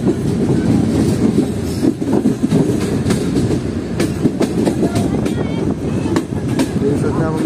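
The Tezgam passenger train rumbles steadily across the Kotri bridge over the river, with rhythmic clickety-clack of wheels on rails heard from inside a carriage, loud and continuous, with a voice speaking faintly underneath.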